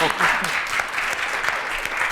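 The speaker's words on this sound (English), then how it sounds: "I'm gonna clap for myself now" After an artist talk, an audience gives a short burst of applause, brisk and fairly close, with a voice briefly audible over the clapping.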